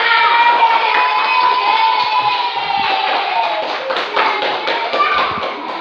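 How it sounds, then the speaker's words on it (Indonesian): An audience at a school event in Indonesia claps hands steadily for several seconds, with children's voices and shouts mixed through the sustained, fairly loud clapping. "Oke, berikan tepuk tangan."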